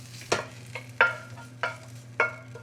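Onions being stirred in a hot pan, four sharp scraping strikes at roughly half-second intervals over a low steady sizzle, close and fairly loud, with no voices.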